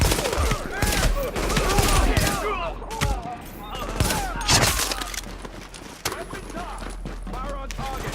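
Repeated gunfire bursts in the video game The Division crack through the scene, sharp shots and volleys recurring steadily over several seconds amid a busy combat mix with voices shouting.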